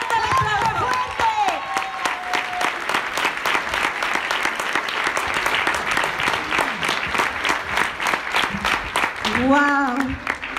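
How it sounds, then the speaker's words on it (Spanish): Loud, sustained audience applause at a business presentation event, with rhythmic clapping and some cheering throughout while a voice speaks over it at the start and end. "Fuerte, fuerte el aplauso, que se escuche. Fuerte el aplauso, fuerte."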